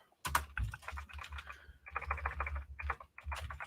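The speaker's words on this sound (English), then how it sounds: "Sorry if the clickety-clackety typing's a little bit loud." Rapid clicking of a computer keyboard, bursts of typing with short pauses, close and fairly quiet.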